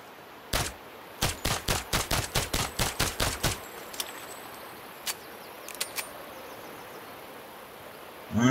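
Gunfire in the video game Sniper Ghost Warrior 3 comes as a rapid run of about a dozen evenly spaced sharp shots, then a few scattered single cracks and quiet, with no talk over it.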